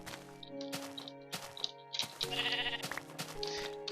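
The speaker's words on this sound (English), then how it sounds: "you get between 1 and 3 bits of wool per sheep" Sheep in the Minecraft video game bleat several times in short, sharp calls, with background music and game effects and no talk.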